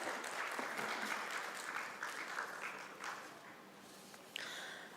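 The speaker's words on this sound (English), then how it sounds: "Let's have a huge round of applause for all the winners under this category" Award-ceremony audience applauding winners at an MSME honours event, a steady hall-filling spread of clapping that slowly thins toward the end, with no talk over it.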